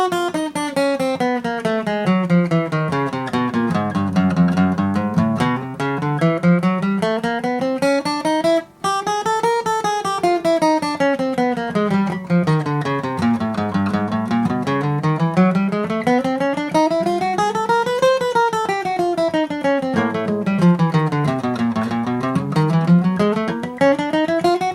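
Electric guitar running a fast chromatic exercise with alternate picking, rapid even notes climbing and descending the neck in smooth repeated sweeps, played alone without talk.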